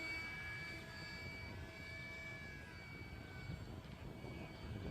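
An Edge 540 Red Bull RC airplane flies overhead with a steady, thin motor whine that stays faint and fairly distant throughout.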